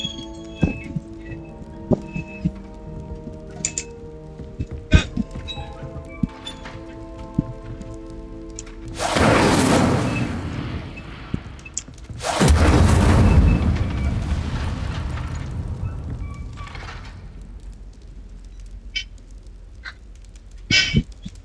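Incendio fire spell cast in the video game Hogwarts Legacy, two loud whooshing blasts of flame over scattered game sounds and clicks, each swelling and fading over a few seconds.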